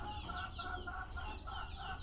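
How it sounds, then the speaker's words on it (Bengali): Hens on an organic poultry farm, one near laying, cluck and murmur in a soft repeated pattern at a distance, quiet over steady low background noise. "এদিক নিচের মুরগি সু সু সু সু করতেছে"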